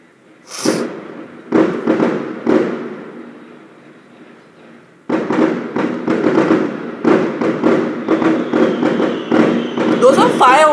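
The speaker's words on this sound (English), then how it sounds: "Those are fireworks now." Fireworks pop and thud outside in daytime, several separate bangs early on and then a rapid cluster of bursts, with a person talking over them nearby.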